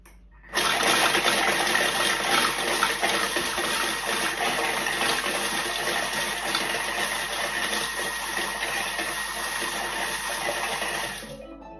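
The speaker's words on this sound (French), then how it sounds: "Et là, on va mixer 10 secondes sur vitesse 3" Thermomix running for ten seconds at speed 3 while mixing crêpe dentelle pieces for a chocolate mousse: a loud, even mechanical whir with a rattling, churning texture that starts sharply and cuts off cleanly, with nobody talking.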